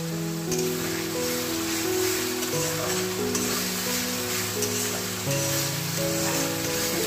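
Chicken frying in a pan gives a steady, even sizzle that runs the whole time beneath louder background music with sustained tones.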